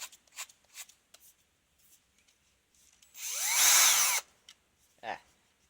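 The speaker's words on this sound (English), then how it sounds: "if I drill a little bit, I might disintegrate the screw because it's already rusted, and it might just fall out" A power drill bores into a rusted screw, giving one loud burst of about a second of whining, grinding drilling. Small clicks and handling noises come before it, and a short scrape follows.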